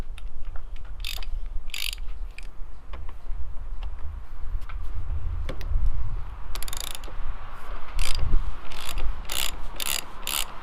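Ratchet turning an 18 mm socket on a truck seat bolt, with quick bursts of close clicking pawl ratcheting separated by pauses and low handling noise.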